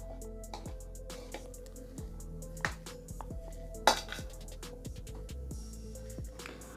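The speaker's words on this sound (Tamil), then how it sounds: "இப்போ கரண்டிலேயே உருளைக்கிழங்கு வந்து நம்ம மசிச்சு எடுத்துக்கலாம்." A spoon mashes boiled potato and chicken in a bowl, making close, repeated clinks and scrapes in a steady rhythm over a faint tonal background, with no talking.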